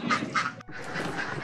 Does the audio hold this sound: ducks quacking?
yes